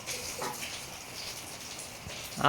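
Rain falls steadily outdoors as a soft, continuous hiss of drops, faint and distant, with a brief louder splash near the end.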